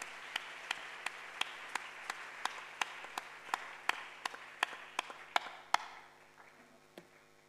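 Church congregation clapping in praise of the Lord, about fifteen sharp, evenly spaced claps in a steady rhythm over a murmur of voices, ending with a last few scattered claps as the sound fades.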